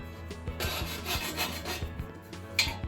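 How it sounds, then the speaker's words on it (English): A hand file scrapes back and forth across a burr on a Corvette exhaust header flange, producing a series of close, rhythmic rasping strokes with short pauses between them. "you will need to clean it up a little bit with a file"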